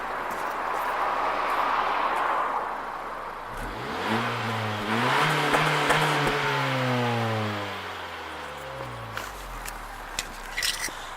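A 2018 Honda Civic GT with a 1.5 VTEC Turbo engine revs up from idle, pitch climbing sharply and then falling back, heard close and moderately loud against a steady background rumble.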